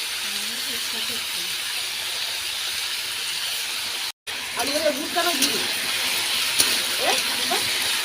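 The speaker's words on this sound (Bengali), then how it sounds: "এবার আলুটা ভেজে নেব" Boiled potatoes sizzle as they fry in a pan for ghugni, a steady hissing spread that carries on beneath a person talking, briefly cut to silence midway.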